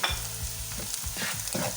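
Garlic and ginger frying with spices in oil for a fish curry, a steady sizzle broken by repeated scraping stirs of a spoon against the pan, close and fairly loud.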